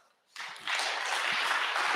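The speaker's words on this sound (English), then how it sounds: "So give him a round of applause." A pitch-night audience bursts into applause for the evening's MC, the clapping starting abruptly after a quiet moment and swelling into a steady, dense wash of many hands.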